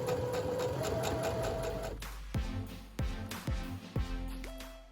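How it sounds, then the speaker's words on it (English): A sewing machine whirs steadily, then runs in several short, separate bursts of stitching, each starting and stopping abruptly. "So once you're finished at the sewing machine"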